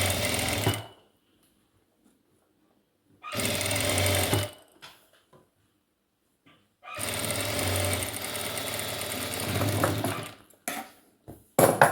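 A sewing machine stitches a sari blouse in three bursts of steady, rapid mechanical clatter, close and fairly loud, the last one the longest, with quiet pauses and faint handling sounds between them and no talking.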